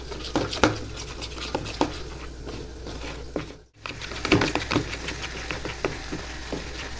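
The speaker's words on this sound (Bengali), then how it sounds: "দই দিয়ে দিলাম, হলুদ আর লঙ্কা গুঁড়ো দিয়ে একটু ফেটিয়ে নেব" Curd mixed with turmeric and chili powder is whisked in quick, rhythmic, pattering strokes, close and moderately quiet, broken by a brief silent pause midway before the beating resumes.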